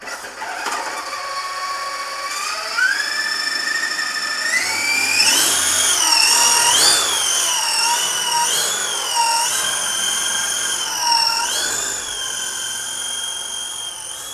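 A small FeiLun FX070C RC helicopter flies with a high, whining rotor and motor pitch that rises and falls as the throttle changes, steady and fairly close, no talk.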